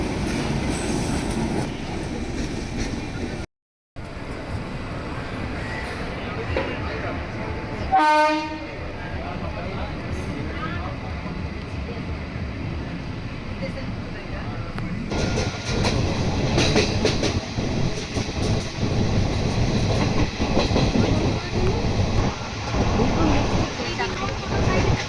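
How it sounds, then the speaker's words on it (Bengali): A passenger train pulls away on time and rolls along the rails with a steady rumble and clatter, a horn blast sounding early on and the running noise swelling louder in the second half. "ট্রেনটা সঠিক সময়ে ছাড়লো।"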